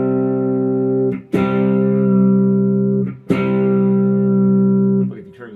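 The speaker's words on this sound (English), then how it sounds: "It's almost like a vibrato effect, which I'm not sure I like at that level." Guitar played through a Strymon Deco V2 tape saturation and doubletracker pedal, with a slight vibrato-like dip and wobble in pitch. Sustained, loud chords are restruck twice, and each one rings out smoothly.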